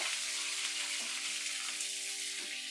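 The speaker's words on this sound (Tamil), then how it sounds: "வெங்காயம் நல்லா வதக்கிக்கோங்க" Small shallots sauté in oil for okra sambar, giving a soft, steady sizzling hiss that stays even and fairly quiet throughout.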